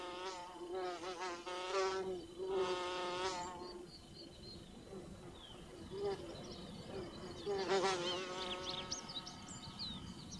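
Carpenter bees buzz in flight in loud, wavering bursts that rise and fall in pitch, coming and going close by as they chase each other, with faint chirps in the background, on the Cape Peninsula, South Africa.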